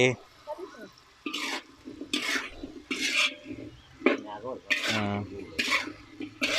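Vegetables picked from beside a house fence are stir-fried in a pan, with a spatula scraping and clattering in repeated strokes close up and someone talking between the strokes.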